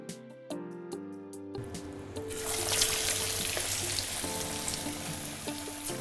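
Steady sizzling of broad bean falafel frying in plenty of hot oil in a pan, a loud crackling hiss that rises and holds after a brief quieter start.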